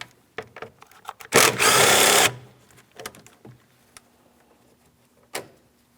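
Power tool or ratchet loosening an 8 mm mounting bolt by the coolant reservoir of a 2007-2014 Ford Edge 3.5L: one loud, steady whirring burst lasting about a second, surrounded by scattered clicks and clanks from nearby work.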